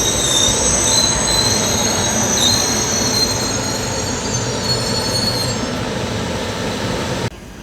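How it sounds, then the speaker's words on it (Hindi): A Vistadome train rolling into Hazaribagh railway station in Jharkhand, with loud, continuous wheel squeal and high metallic screeching over a rumbling rail roar that eases slightly as it slows, with no voices. "तो कुछ इस तरह हम एंटर कर रहे हैं हज़ारीबाग रेलवे स्टेशन"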